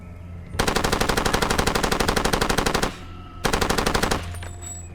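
Rapid automatic gunfire in the video game Far Cry 2: a long sustained burst of evenly spaced shots, a short pause, then a second shorter burst, loud and close with no talk.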